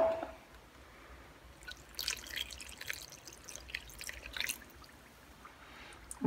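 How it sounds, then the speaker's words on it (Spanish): A little water pours into a tuna fritter batter in a home kitchen, a soft close trickle and a few drips in bursts, alone and fairly quiet with no talk. "vamos a echar un poquito de agua"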